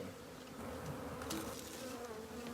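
Honey bees buzz steadily around open hives, a faint, continuous hum with no voices.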